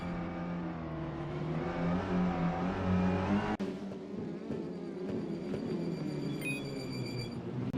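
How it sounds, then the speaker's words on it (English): Touring cars speed past on a circuit in a racing video game, a steady loud engine drone with a sharp change as one passes, then continuing engine whine and whir at moderate distance. "There's not much better than sitting near here and watching the cars speed by."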